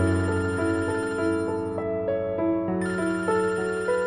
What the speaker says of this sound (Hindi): ये तो फिर बज रहा है फोन।